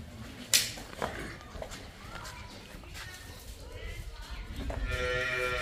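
Cattle and buffalo at a farm selling livestock, with a moo-like call and animal stirrings amid background chatter and farmyard noise, a sharp knock near the start and a rising tonal bellow toward the end.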